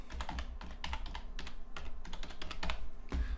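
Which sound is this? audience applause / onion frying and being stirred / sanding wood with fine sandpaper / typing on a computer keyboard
typing on a computer keyboard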